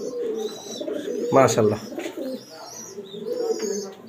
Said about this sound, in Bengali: এগুলো ভাই আসলে মেন ব্রিডার কবুতর